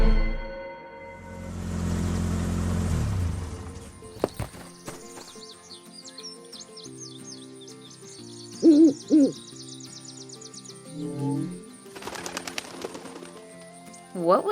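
Animated scene with an owl hooting in short repeated calls, mixed with horse clip-clops and a whinny, layered among music and effects.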